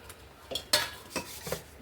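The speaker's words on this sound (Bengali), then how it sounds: "বাসনটা মেজে আসি।" Pots, pans and a sooty kadai being washed by hand in a home kitchen: a few sparse metallic clinks and scraping clatters, close and moderately loud, with quiet pauses between and no talking.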